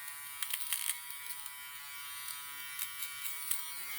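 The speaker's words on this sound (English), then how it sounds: "it's a Panasonic ER430. It is a hair nose trimmer" A Panasonic ER430 nose hair trimmer runs with a steady thin high-pitched electric buzz, fairly quiet and close, with small fluctuations as it moves.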